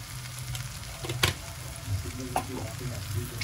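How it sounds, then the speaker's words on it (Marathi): Garam masala powder, with onion-garlic masala, being stir-fried and roasted in a pan for paneer bhurji: a steady low sizzle with scattered scrapes and clinks from stirring, one sharper knock near the middle. "जरा हा मसाला व्यवस्थित भाजून घ्यायचा, परतून घ्यायचा."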